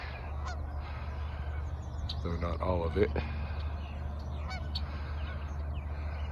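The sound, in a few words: geese honking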